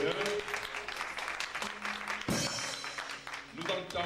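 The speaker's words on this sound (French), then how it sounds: "acclamons très fort le nom du Seigneur" A church congregation claps together in a loud, dense burst of applause that holds steady for several seconds, with a voice and a sustained tone faintly underneath.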